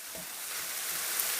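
Sausage and onion fry in a pan, giving a soft, steady sizzle that holds evenly and quietly throughout.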